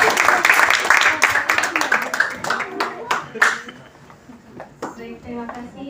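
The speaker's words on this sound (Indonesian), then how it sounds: "Masya Allah, tepuk tangan dulu." Audience applause at a community iftar and thanksgiving celebration in Indonesia: a dense burst of clapping that thins out and fades over a few seconds, with voices murmuring underneath.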